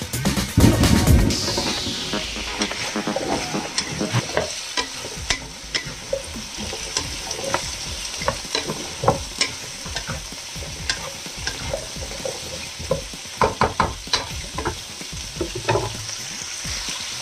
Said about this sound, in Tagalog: Tapos guys, yung sunod natin igisa yung kalabasa.